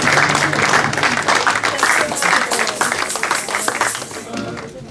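A church congregation at an evangelical ceremony breaks into sustained applause, dense clapping filling the room for several seconds and easing slightly toward the end.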